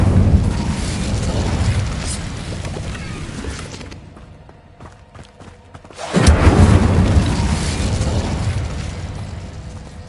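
The Incendio fire spell in Hogwarts Legacy bursts with a loud, roaring blast, dies back briefly, then erupts again into a sustained fiery rumble.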